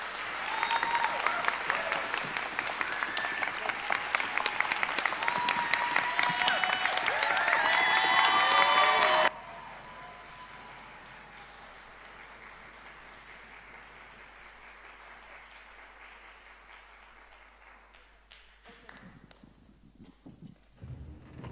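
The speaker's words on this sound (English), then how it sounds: "So please give a warm round of applause to Zineb." An audience at a speech event applauds a speaker warmly, loud dense clapping for about nine seconds that then drops abruptly to softer, thinning applause which slowly fades out.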